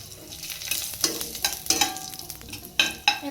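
Whole garam masala frying in hot ghee in a kadai for soya pulao, with a steady low sizzle and scattered sharper spatula scrapes and stirring clatters, close and fairly quiet.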